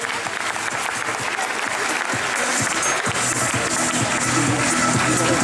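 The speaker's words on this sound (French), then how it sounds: "Merci beaucoup, les applaudissements à nouveau." A crowd applauds at a trophy presentation for a cycling race, the clapping a dense, sustained patter at a steady level with a faint low rumble beneath.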